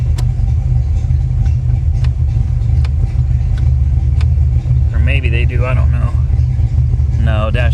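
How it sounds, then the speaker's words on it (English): A 1989 Ford Mustang GT Foxbody V8 with low compression idles steadily with a deep, even rumble close by, while a person talks briefly over it near the end. "She's holding a really good idle"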